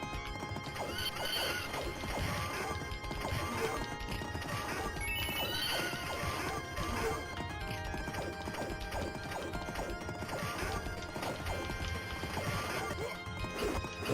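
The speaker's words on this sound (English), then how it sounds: "That's a nice horse actually, the red one." A horse in the arcade video game Knights of the Round gallops with steady clip-clop hoofbeats and neighs, mixed with crashing hits and game music in a busy, continuous soundtrack.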